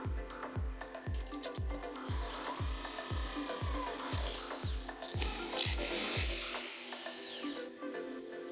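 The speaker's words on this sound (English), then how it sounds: "The holes need to be drilled out a bit for countersunk bolts." A drill bores holes in the metal casing of a burnt-out receiver, making a steady rhythmic scraping and rasping with evenly spaced strokes about twice a second, close and moderately loud, before it fades out near the end.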